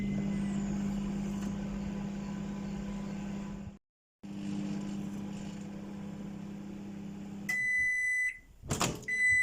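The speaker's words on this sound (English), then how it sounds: "Then set the microwave to whatever you want it on and go." A microwave oven hums steadily, briefly cutting out before resuming, then beeps several times near the end as its door clatters.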